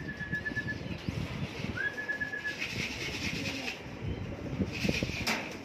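At a home loft in Muñoz, Nueva Ecija, after a 115 km race, a racing pigeon comes in amid outdoor ambience. Two thin whistle tones sound, followed by brief bursts of flapping and rustling near the end.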